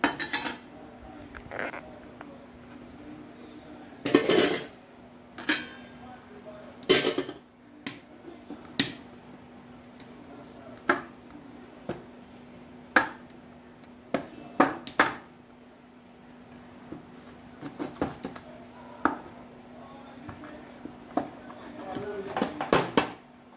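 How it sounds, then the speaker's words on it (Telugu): A knife slicing through cheesy garlic bread on a metal tray or plate, scattered sharp clicks and scrapes spread over about twenty seconds, close by, with a faint steady hum underneath. "ఇప్పుడు దీన్ని కట్ చేసుకుందాం"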